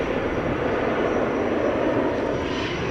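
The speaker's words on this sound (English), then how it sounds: "The Embraer is finally going." Steady broadband roar of a KLM Embraer E190 jet spooling up for takeoff at Amsterdam Schiphol, heard from a distance as a constant engine rumble and hiss with no voices.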